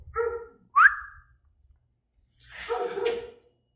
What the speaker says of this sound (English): That's Diesel barking outside